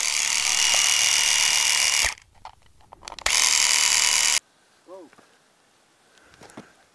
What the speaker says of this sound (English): if you're like this fella here who brings a electric shaver, you can do that too